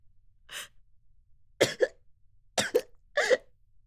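A single person coughs in four separate bursts, short harsh hacks spaced apart with silence between them, close and fairly quiet.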